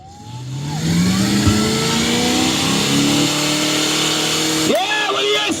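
At a car show, a car engine is held at high RPM in a sustained loud wail that climbs steadily and then wavers, with a crowd shouting and cheering over it.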